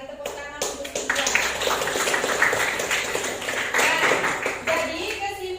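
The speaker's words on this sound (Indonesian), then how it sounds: "betul sekali, tepuk tangan untuk Cynthia." Scattered hand clapping from a small class group, a few seconds of uneven applause with some voices mixed in.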